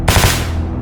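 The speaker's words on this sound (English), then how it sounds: "Bullets fly through the air" Gunfire sound effect in a narrated story: a rapid burst of three or four loud, close shots rings out with a sharp crack and a brief decaying echo.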